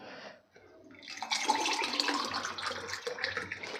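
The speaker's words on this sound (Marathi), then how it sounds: "त्यानंतर आपल्याला थंड पाणी घालायचं आहे" Cold water pours steadily into a glass of lemon sherbet premix after a brief pause, a close, bubbling, splashing stream that fills the rest of the moment.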